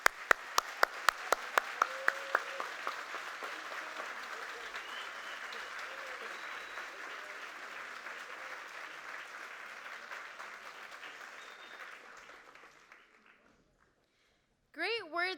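Audience applause for a graduating class of young professionals at a Bay Area ceremony, opening with a few sharp claps and then swelling into a steady, full-room ovation that fades away near the end.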